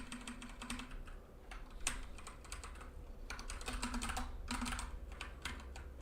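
Rapid computer keyboard typing in bursts with short pauses between them, close and fairly quiet, with no voices over the clicking.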